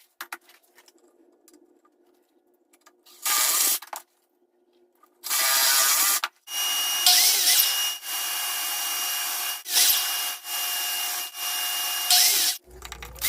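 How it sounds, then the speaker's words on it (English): A drill boring pocket holes in wood for table saw extension leg pieces, running in several separate loud bursts of a few seconds each, separated by short pauses and quiet handling noise. "I'm creating more pocket holes for the pieces that connect both the legs at the top."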